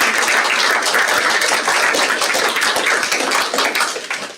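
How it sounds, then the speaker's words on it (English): Sustained audience applause at a conference keynote event, dense continuous clapping from a crowd that stays loud throughout before tapering slightly at the end. "So give them all a round of applause."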